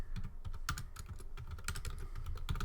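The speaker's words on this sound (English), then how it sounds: "Typing into the list now." Quick bursts of typing on a computer keyboard, crisp close key clicks in uneven runs with brief pauses, heard on their own without speech.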